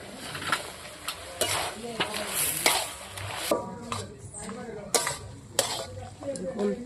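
A fried, crushed fish head goes into a pan of ground spice paste and is stirred, giving soft sizzling under repeated scraping and clinking of a utensil against the pan, with brief louder clatters.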